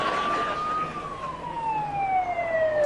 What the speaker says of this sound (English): a large siren coming straight up the road towards us